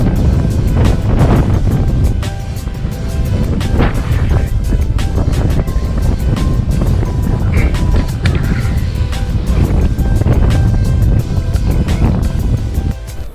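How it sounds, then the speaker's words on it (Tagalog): Strong wind roars and buffets the microphone steadily throughout, with a low rumbling wash and faint voices now and then underneath, on a motorcycle ride. "Ang lakas ng hangin dito."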